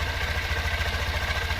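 A Honda CB125F motorcycle engine idles close by, holding a steady, even chugging throb with no revving and no voices.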